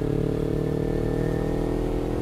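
A motorcycle engine drones steadily at constant revs while riding, loud and close, with a rough mid-range rumble and no voices.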